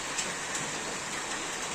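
Steady rain falls during a monsoon storm, a dense, even hiss of drops with no pauses or changes in loudness, heard alone without any voices.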